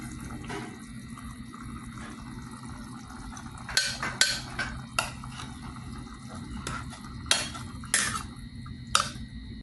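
Spoon or spatula knocks against a pan while chicken and pork adobo is stirred before vinegar goes in, several sharp clinks at irregular intervals over a steady low kitchen hum.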